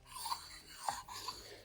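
A Ford 9-inch differential mating surface is rubbed flat by hand against an abrasive, giving soft, faint scraping strokes in an uneven back-and-forth rhythm.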